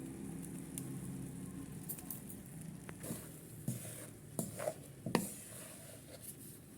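Ground almonds, pistachios and melon seeds being stirred into panjiri in a pan, giving soft scraping and patter with a few sharper clicks of the spoon, moderately close and without talk.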